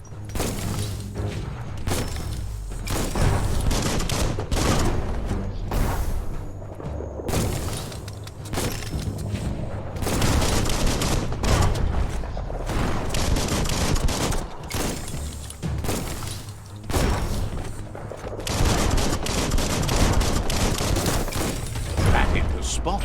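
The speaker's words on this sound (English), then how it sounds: "That's a bomb lobber." Bomb lobber weapon fired in the video game Biomutant, with a dense, continuous barrage of booming blasts and thudding explosions layered over game effects and a voice talking throughout.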